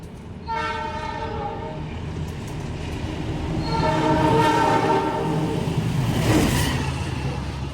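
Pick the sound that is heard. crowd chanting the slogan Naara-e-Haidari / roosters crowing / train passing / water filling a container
train passing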